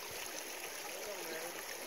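Justice Creek flows along the Appalachian Trail in Georgia, a steady hissing rush of water with no breaks, heard from close by and fairly loud.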